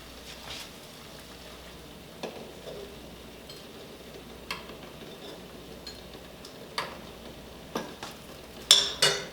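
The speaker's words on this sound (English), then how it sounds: "I'm going to be lowering the eggs in gently with the spoon" Eggs are lowered gently on a spoon into a pot of boiling water, giving a series of soft clicks and taps against the pot over a quiet bubbling background, growing a bit louder toward the end.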